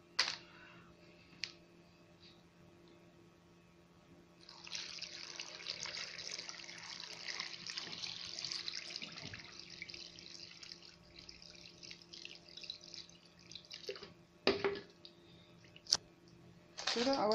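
Tap water pours from a faucet over lemon peels in a kitchen for pickling, a faint rushing stream running for several seconds after a quiet start, followed by a few clinks and handling knocks.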